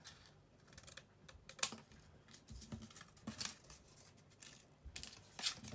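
Card being cut in half with scissors for a handmade Mother's Day card, faint close snips and paper rustles in short irregular bursts, quiet and without talk.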